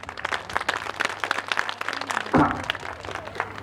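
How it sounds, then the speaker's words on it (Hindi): Audience at a school commemoration event for freedom-fighter martyrs applauding, a dense burst of many hands clapping at moderate distance, steady and sustained. "उनके सम्मान में भी एक जोरदार ताली हम लोग बजा सकते हैं।"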